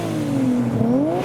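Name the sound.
Nissan Skyline R34 engine revving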